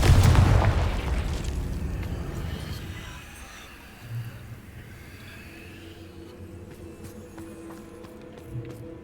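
A Confringo blasting spell detonates in Hogwarts Legacy with a loud, deep boom at the start that rolls off into a fading rumble, followed by a few faint thumps and light game sounds with no voices.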